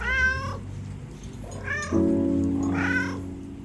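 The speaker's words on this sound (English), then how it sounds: "Gino mews and purrs, rubbing against Emmanuel's legs, who scratches his head" A cat mews several times in drawn-out, rising and falling calls, close and clear, while rubbing against someone's legs; a soft purr may sit underneath.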